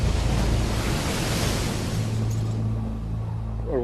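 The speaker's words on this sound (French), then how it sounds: "Le vent souffle déjà à près de 25 nœuds" Strong wind gusting at an airport, blowing at around 25 knots, a loud continuous broadband roar with buffeting rumble that eases slightly toward the end.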